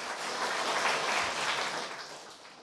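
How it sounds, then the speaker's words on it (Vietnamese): A studio audience at a Vietnamese television quiz show claps for the contestants, a dense, even burst of applause that swells slightly and then tapers off, with no talking over it. "hãy dành một tràng pháo tay để cổ vũ động viên tinh thần cho các bạn thí sinh"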